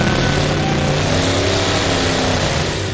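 Loud, continuous engine roar from a junkyard-built puller vehicle under heavy load, wheels spinning, the dense rumble holding steady throughout with a slight fade at the end.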